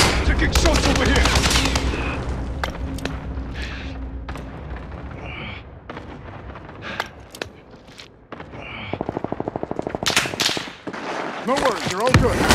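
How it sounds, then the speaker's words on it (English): Gunfire from the video game Call of Duty: Modern Warfare on Rebirth Island, with loud bursts of automatic fire and sharp single shots scattered across the clip, close and punchy, amid game effects and chatter. "Taking shots over here!"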